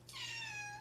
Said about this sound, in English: Good entrance for the kitty.